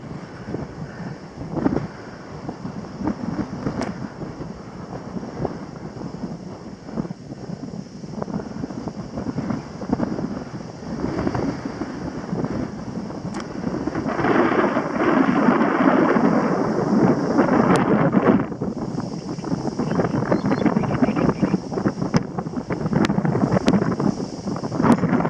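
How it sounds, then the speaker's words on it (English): Strong, gusty wind along the Danube canal buffets the microphone in a continuous rumbling roar that swells louder in the second half, with no voices. "It's so windy, there's even waves on the canal."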